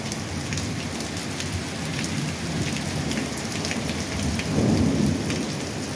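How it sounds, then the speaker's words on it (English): February thunderstorm with steady heavy rain pattering on surfaces and low thunder rolling around, swelling louder near the end, with hail having fallen earlier; no voices over the storm. "You can actually hear the thunder kind of wrapping around us."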